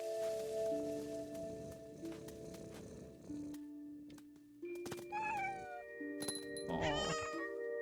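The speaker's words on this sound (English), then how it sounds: "Oh, the cat's purring." A cat meows several times in rising, wavering calls toward the end, over faint purring and ambient tones, moderately loud and close, with no talk.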